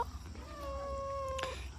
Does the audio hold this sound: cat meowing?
yes